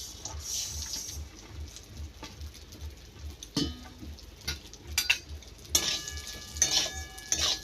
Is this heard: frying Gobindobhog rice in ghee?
yes